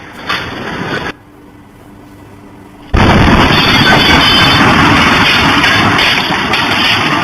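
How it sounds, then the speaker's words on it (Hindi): A bomb blast in Naugam recorded on CCTV: after a low rumble and a brief near-silent gap, a sudden, very loud explosion erupts and sustains a dense, roaring wash of noise for several seconds. "जब ये धमाका हुआ महज कुछ सेकंड्स में कैसे"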